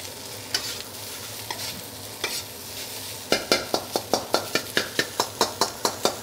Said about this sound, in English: I'm gonna use the sharp edge of my spatula, and I'm gonna break up all that stickiness of the rice.